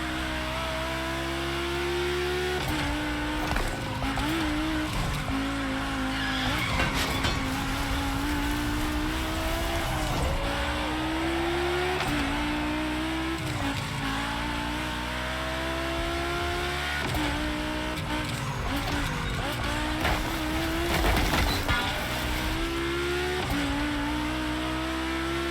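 Volkswagen race cars on track in The Crew Motorfest, loud continuous engine drone with rising and falling revs through repeated gear shifts, close and steady with no talk.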